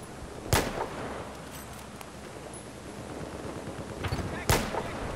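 Gunfire rings out in a Battlefield 4 conquest match on the Shanghai map. Two sharp, loud shots stand about four seconds apart over a bed of distant rattling fire, and a voice is heard faintly.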